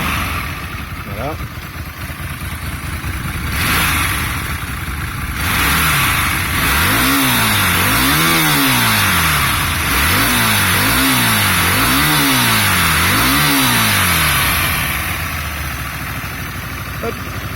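A warm, stock Hyosung Comet GT 125 motorcycle idles close by, then gets a series of about five quick throttle blips. Each one rises and falls in pitch before the engine settles back to idle.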